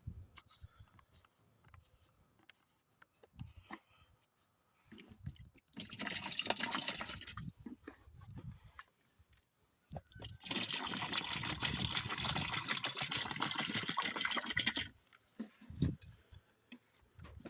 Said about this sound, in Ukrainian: першим налию чуть води холодної